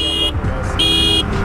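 A loud, high horn from a motorcycle on the road blares in two long blasts with a brief gap between, over steady engine and traffic rumble.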